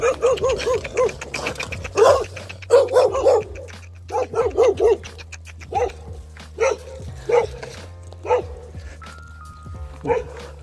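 Several dogs bark in repeated bursts, some sharp yips and whimpers mixed in, over a low steady engine hum with faint voices in the background.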